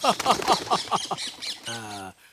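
A pet parrot squawks as it is set free from its cage in a Hindi-dubbed horror film, giving a rapid string of harsh, nearby squawks and ending in one longer, tonal call.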